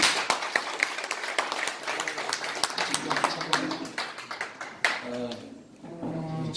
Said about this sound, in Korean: 우리 사령관님께 다시 한번 큰 박수 부탁드립니다